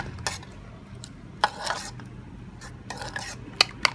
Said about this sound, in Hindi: अब इसको अच्छे तरीके से हमने मिक्स कर लेना है अंडे को।